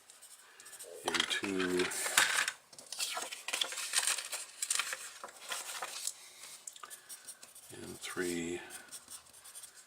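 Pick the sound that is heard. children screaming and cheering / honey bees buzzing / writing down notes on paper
writing down notes on paper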